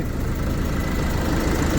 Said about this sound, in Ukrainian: Та зараз послухаємо двигун знаружі.